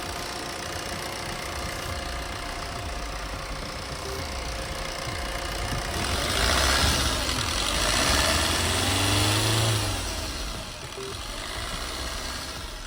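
A used car's engine cranks over and settles into a steady idle, with a swell of louder running mid-clip before easing back to a constant hum.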